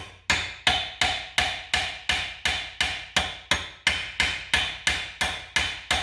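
A hammer sets a rivet on a forged iron iris in a blacksmith's forge, with about sixteen sharp, evenly spaced metallic blows at a steady, brisk rhythm, loud and close with nothing else heard.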